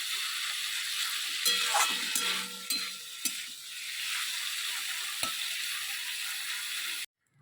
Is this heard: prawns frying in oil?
yes